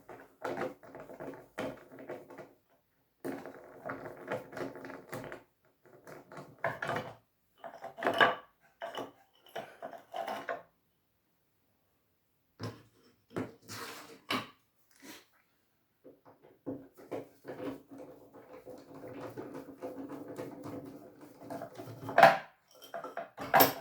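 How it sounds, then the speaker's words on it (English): Screws are removed while a classic-style harmonium is taken apart, with close, intermittent metallic clinks, scrapes and taps coming in uneven clusters and brief pauses between them; no one speaks. "So in this situation I will unscrew the screws."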